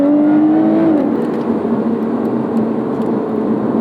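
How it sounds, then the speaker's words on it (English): The supercharged Toyota Camry-derived V6 engine of a 2020 Lotus Evora GT roars loudly and steadily, its pitch climbing then settling into a sustained drone with a whirring tone. "Who would have thought that a Camry V6 could sound this good?"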